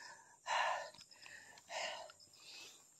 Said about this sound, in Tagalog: Ayan, hinihingal ako.